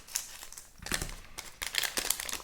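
Foil Pokémon Scarlet and Violet booster pack crinkling and tearing open at close range, in three short crackly bursts with brief pauses between, no talking.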